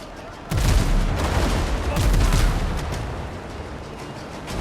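Ship cannons firing in the pirate video game Windrose: a sudden loud blast opens into a sustained rumbling barrage of overlapping booms that slowly fades.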